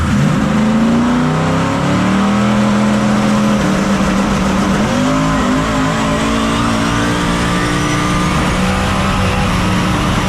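A 4x4 NASCAR truck makes a no-prep drag run, its engine roaring loudly and continuously, revving up and down as the tires spin.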